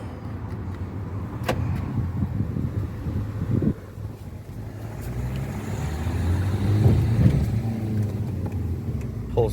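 A Renault Scenic drives along and accelerates, its engine a low rumble that rises gradually under wind and road noise. A brief knock is heard partway through.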